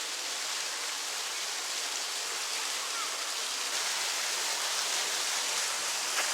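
A waterfall in Hocking Hills State Park, Ohio, pours with a steady, even hiss of rushing water that holds constant throughout.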